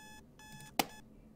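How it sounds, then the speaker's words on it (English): An alarm clock in the video game Butterfly Soup rings with two bursts of electronic beeping, then a sharp tap cuts it off before a final short beep. "Diya hits her alarms"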